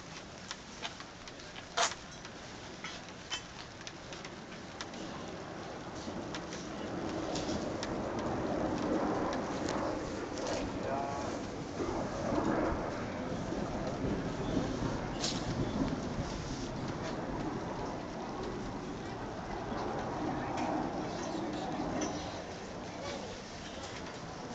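Thunderstorm at a marina park in Volendam, with steady rain hissing on surfaces and a few sharp thunder cracks and rumbles rolling through, intensifying midway and holding loud; birds call faintly in the background.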